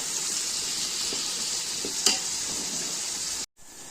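Onions browning in oil in a large pot for chicken biryani, giving a constant bright, even sizzle with a single small click partway through before the sound cuts off abruptly.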